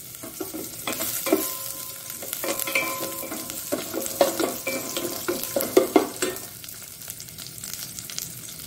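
Cumin and chopped onion frying in ghee, a steady close sizzle with stirring scrapes and small pops throughout, no voices.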